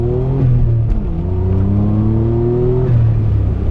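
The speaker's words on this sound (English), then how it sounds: "I don't know if y'all be able to hear the blow-off valve" A 1992 Suzuki Cappuccino engine with aftermarket exhaust drones loudly, its pitch climbing and dropping as it revs through gear changes, with brief hissy bursts from an aftermarket blow-off valve at the shifts.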